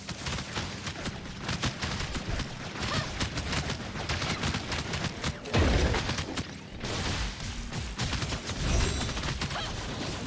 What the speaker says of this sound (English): Just shooting it from above.